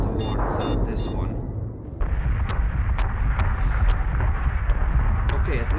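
Ship turret gunfire in the space combat game Battlestar Galactica Deadlock, with a dense rolling rumble of cannon fire and repeated sharp booms continuing steadily throughout, loud and close, with some game chatter underneath.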